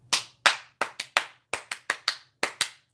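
About a dozen sharp, close hand claps ring out alone in a loose, uneven rhythm, each one crisp with a quick decay and short gaps between.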